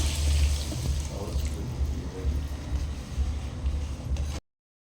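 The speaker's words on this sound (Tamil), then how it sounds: "கொஞ்சம் தண்ணி ஆட் பண்ணிக்கலாம்" Water pours and splashes briefly into a pan, a short close liquid rush over a low background hum.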